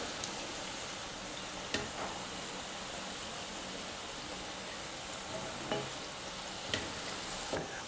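Lentil vada deep-frying in oil over a medium flame: a continuous, fairly faint bubbling hiss runs throughout, with occasional soft clicks as the fritters are turned, and no one talks.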